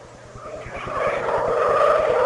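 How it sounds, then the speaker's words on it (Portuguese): A Ferrari Formula 1 car engine at the 2000 United States Grand Prix swells into a rising, high-pitched roar over about two seconds, growing steadily louder as the car approaches. "O grito do motor da Ferrari é sensacional."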